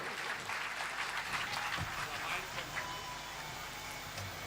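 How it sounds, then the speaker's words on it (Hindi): Audience at a Pandavani folk performance during a Ramcharitmanas fair at a Hanuman temple market square claps in a steady, dense wash, moderately loud and sustained throughout with no break. "जतका अच्छा पंडवानी लगी सो ही उतके जोर से ताली बजाओ"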